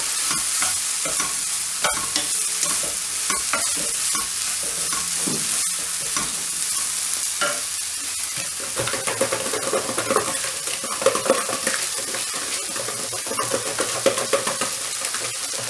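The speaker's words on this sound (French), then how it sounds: "On n'oublie pas de touiller de temps en temps ces petites pommes." Small apples cooking in a pan are stirred steadily, a continuous sizzle and frying hiss with repeated scraping strokes of the spoon, close and fairly loud throughout with no talking.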